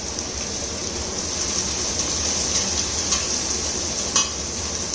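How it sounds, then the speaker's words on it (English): Diced carrot and onion sizzle loudly in hot oil in a pan, a steady, dense frying hiss lasting throughout with a few brief louder crackles near the end, no voices. "now the oil is hot, we'll add the diced up carrot and onion"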